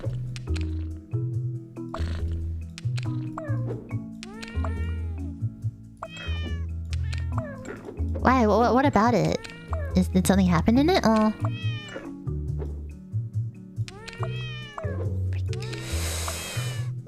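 Cartoonish meows from a cat in a video game repeat throughout, over looping game music, while someone talks and reacts alongside them.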